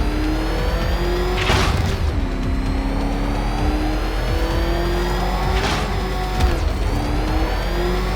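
Batmobile engine from Batman: Arkham Knight holds a steady, loud mechanical drone with slowly shifting pitch, two brief swells of revving around the second and sixth seconds, no talking.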